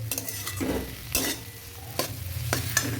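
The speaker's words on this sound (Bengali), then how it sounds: "এখন চাউমিনটা দিয়ে দেব, ভালো করে মিশিয়ে নেব" Chow mein noodles tossed and stirred in a frying pan with mustard oil, a series of scraping, clattering stir strokes over a steady low sizzle, close and fairly quiet, with no voices.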